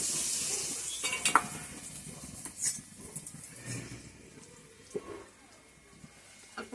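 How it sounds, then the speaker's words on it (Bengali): Lentil dumplings (bori) dropped into hot oil, giving an uneven close sizzle broken by clinks of utensils against the pan, with faint background noise. "তেলটা গরম হয়ে গেছে আমি এবার ডালের বড়িটা দিয়ে দিই"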